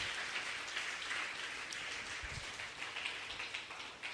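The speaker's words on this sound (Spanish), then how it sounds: "Dale un fuerte aplauso a Cristo Jesús" A church congregation applauds at a Spanish-language tithing sermon, a steady, dense wash of clapping that fills the whole stretch at an even level with no talk over it.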